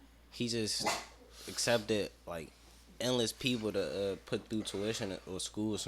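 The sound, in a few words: dog barking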